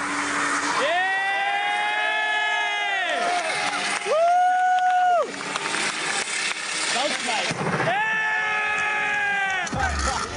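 A car doing a burnout with its tyres worn down to the rims, producing loud sustained tyre squeals that rise and fall in long wailing bursts over a noisy roaring background.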